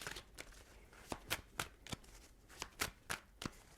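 Tarot cards are shuffled by hand in a quiet room, a run of soft, crisp riffling flicks in irregular bursts, close and faint.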